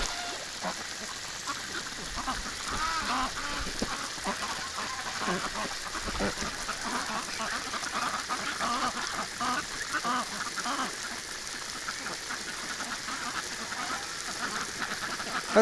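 Wintering ducks and geese gather in a snowy garden, quacking and honking in a steady, busy flock chorus that runs throughout without a break.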